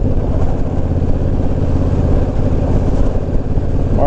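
Honda Rebel 1100 DCT motorcycle engine running loud and close with an uneven, wavering throttle, its rumbling note dipping and surging under wind noise, with no talk.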